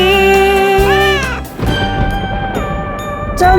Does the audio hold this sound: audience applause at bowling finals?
no